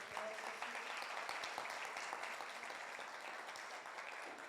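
Church congregation clapping for the Lord during a Spanish-language sermon, a dense, steady wash of many hands that holds at an even level throughout with no voices standing out.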